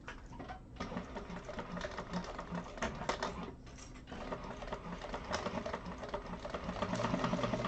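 Sewing machine stitching a skinny strip of fabric for a wallet, a steady dense mechanical whir with rapid needle clatter, running continuously and close with brief slowdowns.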